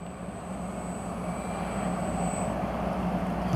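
An X-Fly Spitfire RC warbird model plane takes off with no wind: a steady propeller and engine drone that grows slowly louder, alone without talk, over a faint high whine.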